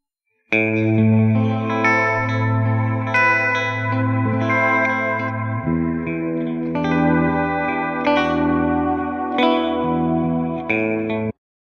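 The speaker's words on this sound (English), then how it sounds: "it's an emulation of an actual analog pedal" Sustained guitar chords ring through a warm, pulsing tremolo from an analog pedal emulation plugin, with chorus and echo, the chord changing every few seconds, no voices.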